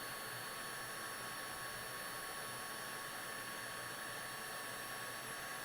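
A heat gun on its low setting shrinks heat-shrink tubing with a steady, constant blower roar and hiss that stays even throughout, with no speech.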